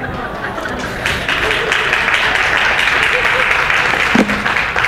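A church congregation claps during a Sunday morning service, a sustained, even wash of applause that swells after a moment and holds steady, with a brief voice rising over it near the end.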